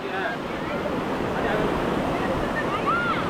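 Heavy sea waves roll and wash at Dhanushkodi near Rameswaram, a steady, loud roar of surf mixed with wind buffeting the microphone, with faint voices in the background.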